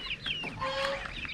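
A chicken clucks in a short run of close, fairly loud calls, heard alone with no talk.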